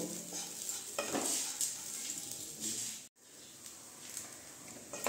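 Raisins and cashews fry in a pan for Bengali bhuna khichuri, a soft, steady sizzle with gentle stirring scrapes, briefly cutting out for a moment midway before resuming quietly.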